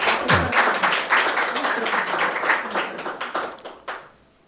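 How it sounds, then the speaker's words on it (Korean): A church congregation breaks into warm group applause to welcome guests, a dense, close burst of clapping that carries on for several seconds before tapering off. "박수로 좀 환영합시다"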